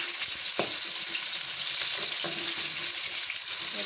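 Chopped onions sizzle steadily in hot oil for a pickle-style meat curry, a dense continuous crackle with a couple of sharper stir scrapes, close and alone with no talking.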